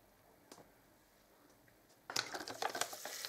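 Soil scattered and pressed over sweetcorn seeds in small pots: faint quiet at first with a single light tap, then a burst of close, gritty scratching and rustling near the end.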